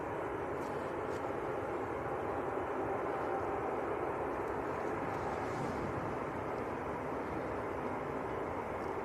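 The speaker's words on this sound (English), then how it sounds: "Is that A380 taxiing a bit fast" An Airbus A380 taxiing at Manchester Airport produces a steady, broad engine rumble and whine that holds at an even level throughout, with no voices over it.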